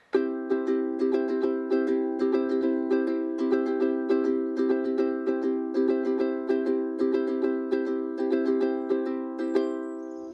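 A ukulele is strummed quickly and steadily, each bright chord stroke evenly spaced in a driving, unbroken rhythm with no voices.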